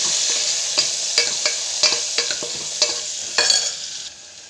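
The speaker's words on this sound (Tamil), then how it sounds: "மஞ்சள், நல்லா வதக்கிட்டு" Onions and turmeric sautéing in a pan for vegetable biryani, a bright close sizzle broken by about eight rhythmic scraping stirs that fade out at the end, with no speech.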